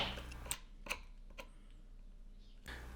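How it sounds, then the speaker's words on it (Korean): A striking chisel driven by a few sharp taps to cut a mortise in wood, three crisp knocks spaced about half a second apart, faint and close in an otherwise quiet room. "처음 끌질은 칼금선까지 들어오게 타격합니다."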